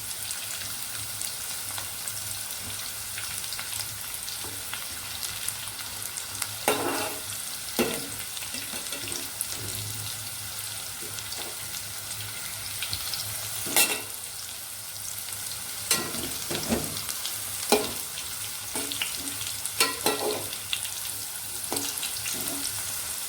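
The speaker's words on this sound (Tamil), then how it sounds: "நல்லா சிம்மில் வச்சு பாவக்காய் நல்லா அப்படியே பொரியிற மாதிரி வேகணும்" Bitter gourd fries in oil on low heat, a soft continuous sizzle broken by occasional louder crackles and stirring scrapes, with no talking.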